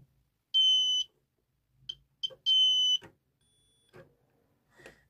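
The buzzer of a homemade continuity tester circuit beeps in two clear, loud bursts, with shorter faint chirps in between as contact is made and broken.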